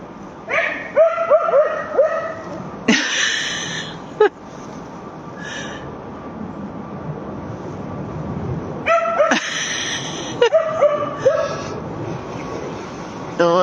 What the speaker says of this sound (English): Oh, it's a yappy dog.